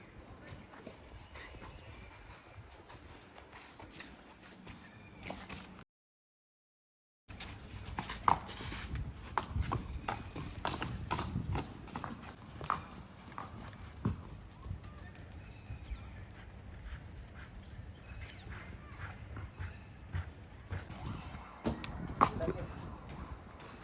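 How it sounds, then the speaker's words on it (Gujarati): A Marwari mare walks on a horse farm in Amreli, her hooves giving light, irregular clip-clops at close range, with a short silent gap partway through and occasional talk. "આ ઘોડીની વાત કરીએ તો કલ્યાણી."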